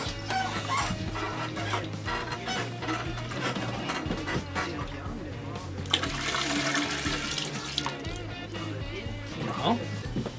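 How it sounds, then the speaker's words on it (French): Room-temperature water pours steadily into a homebrew beer vessel, a continuous splashing rush with shifting intensity that runs for several seconds. "On va rajouter notre eau ici."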